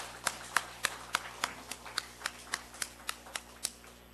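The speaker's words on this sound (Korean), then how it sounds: "우리 하나님께 영광의 박수 같이 올려드리겠습니다" Slow, evenly spaced claps in a church service, about thirteen sharp, faint claps in a steady rhythm with no talking over them.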